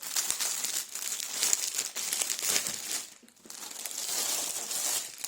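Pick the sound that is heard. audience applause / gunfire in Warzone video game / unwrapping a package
unwrapping a package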